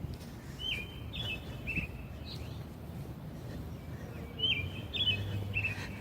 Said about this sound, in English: See, these night birds, they're the ones that freak me out the most.